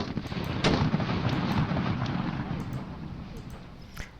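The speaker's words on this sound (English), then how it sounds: "Of course I like using my artillery first." Artillery fire in the WWII strategy game Assault on Arnhem, during the fight for Nijmegen: a continuous low booming rumble broken by sharp cracks and blasts, loud and steady, with no talking.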